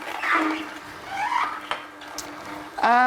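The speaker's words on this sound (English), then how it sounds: "as the juicer is squeezing and pressing, that's when you're hearing that noise from the ingredients" A REVO830 cold press juicer squeezing and pressing fruit slices, giving soft squelching and crunching noises with a brief creak, close and moderately loud, with no talking.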